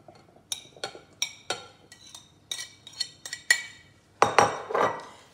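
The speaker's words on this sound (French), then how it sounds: "je les mets dans un saladier" Cubed potatoes drop into a salad bowl as a string of sharp clinks and clatters, about a dozen separate taps in an uneven rhythm, close and clear, ending in a louder scraping cluster.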